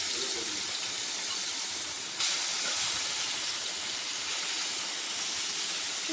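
Marinated chicken pieces dropped into hot oil, a loud continuous hissing sizzle that swells abruptly partway through and holds steady, no voices.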